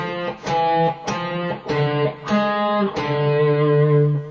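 Classical guitar plays a short Bach passage, with plucked notes ringing and overlapping in a steady phrase, close and clear with no talking.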